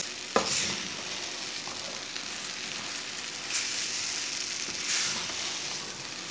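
Semolina cooking in a pan while being stirred, heard as a steady soft sizzle broken by a few scraping strokes of the spoon, close and with no talking.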